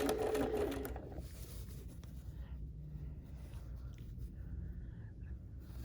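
A sewing machine stitches quilt binding in a loud, steady whir for the first second, then drops to a quieter, even mechanical hum for the rest, with no voice.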